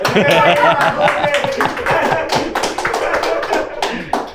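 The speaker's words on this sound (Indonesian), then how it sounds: "Tepuk tangan lu dong buat hitam putih." A talk-show studio audience claps in a dense, steady patter of hand claps, loud and close, with voices faintly underneath.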